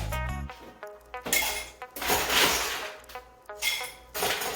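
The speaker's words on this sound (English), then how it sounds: "I'm gonna add some more ice to the glass" Ice cubes clinking and tumbling into a cocktail glass while a Mexican Vineyard cocktail is mixed, a series of close, bright clattering bursts with short pauses between drops.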